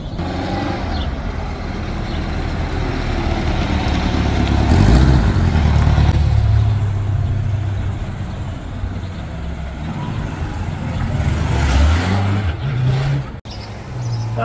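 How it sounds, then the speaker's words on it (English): A Honda car on a test drive with a light load, its engine and road noise rumbling steadily up close for the whole stretch, swelling and easing, with a brief dip near the end. "So he's test driving it with lesser weight on it."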